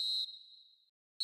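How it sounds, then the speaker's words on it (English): An eFootball video game referee blows a long, piercing whistle blast that tapers off. After a brief silence a second blast begins. "Referee looks at his watch and blows his whistle."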